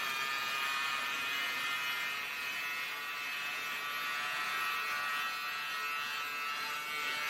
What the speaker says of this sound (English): So you can actually use it as a lint remover as well on your clothes